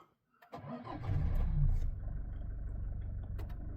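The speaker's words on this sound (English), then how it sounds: "So we can start it again now." Toyota Hilux engine starting from silence: a short crank catches into a louder rev, then settles into a steady idle close by.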